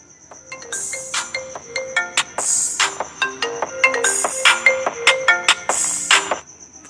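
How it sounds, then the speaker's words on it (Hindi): A custom ringtone rings out on a phone for an incoming call, a loud, close melodic pattern of bright repeating tones that plays continuously for several seconds. "जो रिंगटोन सेट की थी वो रिंगटोन बजी"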